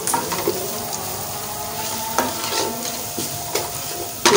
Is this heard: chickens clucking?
no